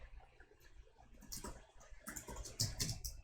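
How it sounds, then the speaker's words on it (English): Typing on a computer keyboard during a game coaching session comes through as soft, uneven bursts of clicking keys, closer and busier toward the end, with no talk. "Or I'll just start typing it in our chat."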